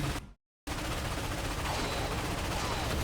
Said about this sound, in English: Hop on the defense cannon.